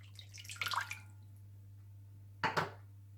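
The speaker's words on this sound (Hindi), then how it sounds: "और इसमें डाल लीजिए 1 कप पानी," Two short bursts of water splashing and pouring into a pot of chicken, the second brief and sharper, over a steady low hum.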